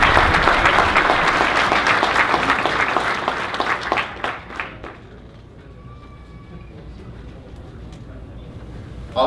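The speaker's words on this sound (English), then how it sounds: "So a round of applause." A room full of people applauding loudly, the clapping thinning out and dying away into quiet background murmur.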